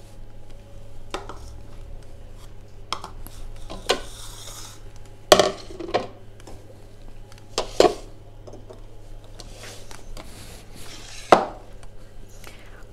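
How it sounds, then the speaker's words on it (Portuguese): Knife chopping green bell pepper and zucchini on a cutting board, heard as a few sparse, sharp knocks spread across a quiet kitchen with a steady low hum underneath. "Agora eu vou picar um pimentão e a abobrinha para vocês verem como que é"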